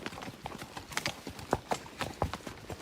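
A mule's hooves clip-clop at a steady walking rhythm as it climbs a hill on a trail ride, close and distinct against faint outdoor background.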